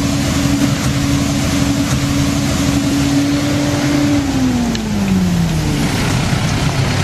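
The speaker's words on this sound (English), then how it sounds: "We are going to go and steal the sweeper machine from Adrian." Walnut sweeper machine running in an orchard, a loud steady engine drone with a constant hum that dips in pitch near the end, close by and uninterrupted, with no voices.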